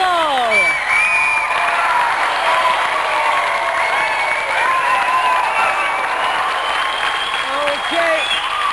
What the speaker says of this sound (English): let's have another round of applause for a true Christmas champion, Paul Tucker!